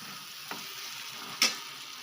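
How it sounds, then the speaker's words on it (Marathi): Ambari masala frying in a pan, stirred with a couple of brief scraping strokes over a soft, steady sizzle. The sound is fairly quiet and close, with no talking. "आणि आता टाकायचा अंबारी मसाला आणि ते टाकल्यावर त्याला बी हलवून घ्यायचा."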